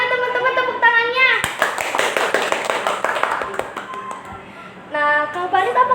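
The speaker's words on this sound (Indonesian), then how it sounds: "Tolong deh teman-teman tepuk tangannya." A group of young friends claps for their new Paskibra leader, a burst of scattered, lively hand claps lasting a few seconds, with chatter and music around it.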